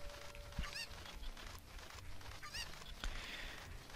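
Game chickens clucking and squawking in The Legend of Zelda: Ocarina of Time, several short harmonic cries spread across the stretch over a busy, steady backdrop of game sound.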